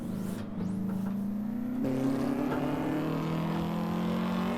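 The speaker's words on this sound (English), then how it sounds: "Oh, and listen to the exhaust. The backfire." Vauxhall VX220 (Opel Speedster) in Assetto Corsa, a steady engine drone with a shift in pitch partway through, a faint crackle of exhaust backfire, close and continuous.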